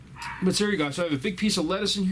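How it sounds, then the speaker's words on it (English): A young puppy in crate training yips and barks from nearby in a home while a person keeps talking, the sharp calls mixed in with the speech. "Sorry about the dog barking in the background."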